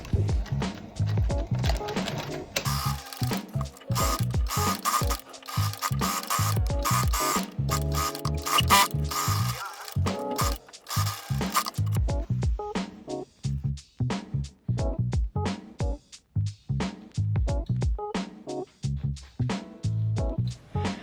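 A sewing machine stitches a seam on a cropped blouse, giving close, rapid mechanical rattling in stop-start runs with short pauses between bursts.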